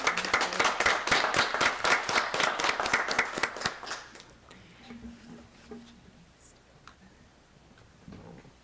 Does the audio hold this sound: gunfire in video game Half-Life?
no